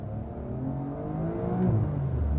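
A Porsche 992 Carrera S engine climbs steadily toward 6,000 RPM, a rising rumbling drone growing louder over about two seconds, heard from inside the car.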